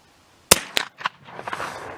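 A shot from a Marlin 1893 rifle with excess headspace: one sharp, loud crack, followed by a few quieter echoes that die away over about a second.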